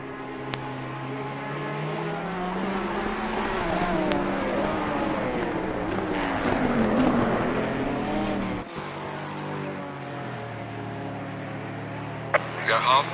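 GT4 race cars at the Spa circuit, engine notes climbing and falling in overlapping sweeps as several cars accelerate and pass, steady and loud throughout with a voice talking over them.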